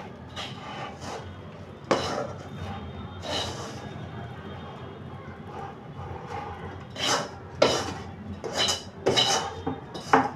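A utensil scrapes a coconut vadi mixture out of a pan, making a run of metallic scrapes and clinks, some sharper than others, at moderate volume with no talk.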